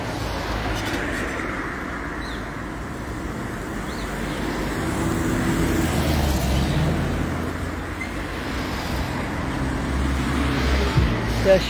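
Traffic roars along a road in Barbados as private buses pass, a steady broadband engine and tyre rumble that swells and fades over several seconds, with no clear voices.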